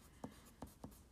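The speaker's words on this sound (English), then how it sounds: "let me write it bigger" Marker or chalk strokes on a board while lettering text art, four short distinct taps and scrapes spaced evenly, close and fairly quiet with no talk.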